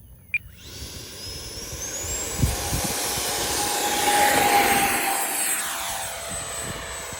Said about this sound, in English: Now I'm taking off without flaps. This will be just full power and full up elevator.